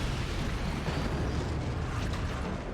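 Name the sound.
shotgun blast hitting a fort in the video game Forts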